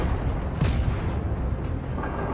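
Cruiser guns firing in World of Warships naval combat, a heavy booming salvo with rumbling low-end blasts layered over continuous game noise, loud and close.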